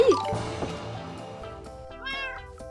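A Minecraft cat lets out a brief meow at the start over game music and soft watery ambience, with a faint voice briefly audible later.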